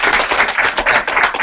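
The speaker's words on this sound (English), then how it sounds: "Can we give an active round of applause?" Brief, lively audience applause at a closing talk, many hands clapping densely and close together for about a second and a half.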